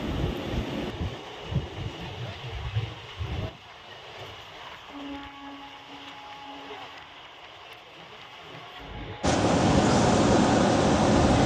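Inside a moving train, a loud rumbling rattle gives way to a quieter hum, then a sudden surge of harsh roaring noise.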